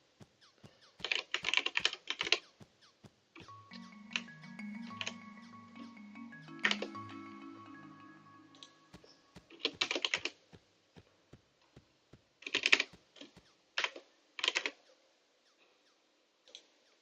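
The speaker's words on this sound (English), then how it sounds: "I'm gonna be doing a bit of typing." Bursts of rapid clicking keystrokes on a computer keyboard, close and crisp, in several separate runs with pauses between, while a soft low game melody plays underneath.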